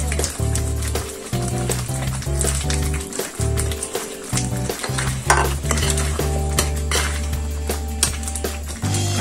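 Paneer cubes added to a buttery masala gravy are stirred in a pan, with a steady sizzle and repeated spoon scrapes and clinks over background music.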